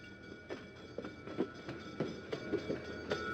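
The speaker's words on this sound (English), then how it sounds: "going on a train ride" A train rolls along in an RPG Maker horror game, with rhythmic clickety-clack of wheels over rail joints repeating steadily under a low rumble, moderately quiet and without voices.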